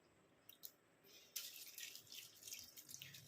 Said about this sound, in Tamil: இப்போ இது கூட வந்து நம்ம தண்ணி சேர்த்துக்கலாம்.